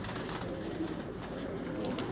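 Pigeons cooing on a rooftop, a soft continuous layer of low throaty coos at moderate distance with no talking.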